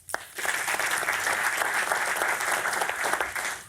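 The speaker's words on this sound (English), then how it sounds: "Please, a round of applause." Warm audience applause at a World Economic Forum open forum on agriculture, a steady full wash of many hands clapping that swells quickly and holds evenly for several seconds without speech.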